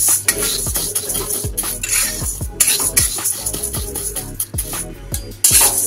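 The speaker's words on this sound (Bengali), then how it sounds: "ডালটা আমরা শুকনো খোলায় কিছুক্ষণের জন্য ভেজে নেব ভালো করে।" Dry moong dal being stirred in a hot pan with a metal spatula, giving rapid, repeated scraping and clinking strokes with the grains rattling against the pan, close and steady.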